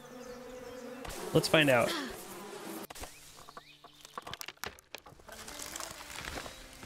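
Bees buzz around a beehive in the survival video game Above Snakes, a faint droning hum behind game sounds and rustling, while someone speaks briefly over it.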